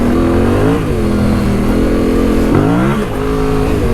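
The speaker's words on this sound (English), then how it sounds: "it's hard to beat the sound of this bike, huh?" A big-bore dual-sport motorcycle revs its engine off road on rocky terrain, close and loud, the pitch rising and falling through several throttle blips with no talking.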